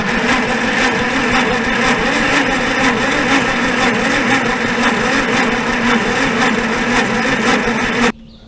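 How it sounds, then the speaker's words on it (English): A 1950s Rolls-Royce engine cranks on its starter in a loud, steady, rhythmic churn for about eight seconds without catching, then cuts off abruptly. "I think we're ready to try and get this thing lit off"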